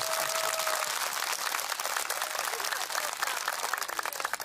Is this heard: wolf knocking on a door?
no